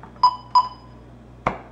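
Two short electronic alarm beeps about a third of a second apart, fairly loud and close at night, followed after a pause by a brief sharper click or chirp, with no talking.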